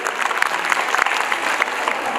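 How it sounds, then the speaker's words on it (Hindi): Audience at a school annual function applauding the chief guest, a dense, steady burst of clapping from many hands filling the hall at close range. "Everyone, big round of applause,"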